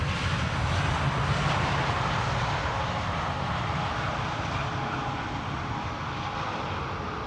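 An Air Canada airliner arriving from Montreal at Amsterdam Schiphol Airport, a steady broadband jet roar with low rumble, sustained and fairly loud throughout with no talk.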